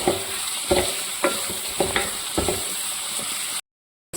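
Onions frying in a pan, a steady sizzle with a spoon or spatula scraping through them in a run of stirring strokes about every half second, close and alone, before it cuts off to silence.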